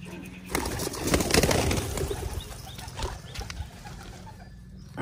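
Pigeons coo softly nearby amid rustling and a brief flutter of wings, with low background hum throughout.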